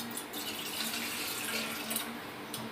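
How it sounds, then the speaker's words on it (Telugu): Water poured from a metal pot into a vessel on a stove, a steady close gushing splash that runs continuously and fairly softly throughout. "ఇప్పుడు రెండు చెంబులు దీంతో, రెండు చెంబులు దాంట్లో నీళ్ళు పోస్తున్నా."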